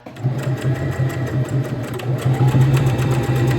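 A sewing machine stitching fabric for a toddler's Christmas top, running steadily and close with a fast, even mechanical whir and rapid needle chatter throughout.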